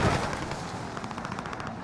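Gunfire in the video game Warzone, a dense burst of rapid shots crackling over a steady background roar, moderately loud and continuous through the short stretch.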